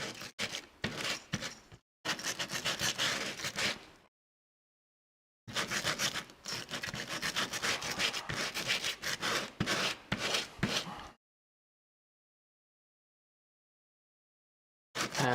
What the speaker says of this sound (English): Just gonna try to roughen this up quickly, just going over them